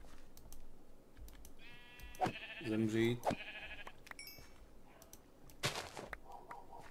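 A few sheep bleat in the blocky video game Minecraft (All The Mods modpack), with a clear nearby bleat mid-way and fainter ones around it, under quiet keyboard clicks and someone speaking softly.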